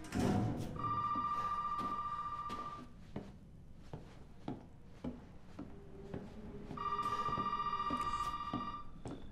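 A telephone rings in the horror video game Resident Evil 7, two long electronic ring bursts separated by a pause, with footsteps and creaks of wood in a quiet, echoing house between them.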